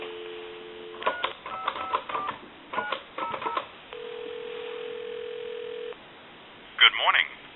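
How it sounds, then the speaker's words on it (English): Dial tone from a red Western Electric 2500 desk telephone on a regular line: a steady tone of about two seconds after a run of short clicks and tones, then brief chirps at the end. "Give you some dial tone."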